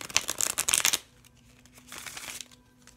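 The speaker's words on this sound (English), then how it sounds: "the reason why I'm gonna be doing a lot of shuffling is because sometimes if you see those cards are really trying to jump" A tarot deck being shuffled by hand gives a close, loud burst of riffling card flutter for about a second. Quieter rustling and handling of the cards follows.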